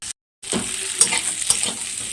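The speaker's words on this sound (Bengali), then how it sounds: "দেখো আলুটাকে একটুখানি ভেজে নিচ্ছি" Potatoes frying in a pan sizzle loudly up close after a brief break, with a few sharp stirring scrapes punctuating the steady crackle.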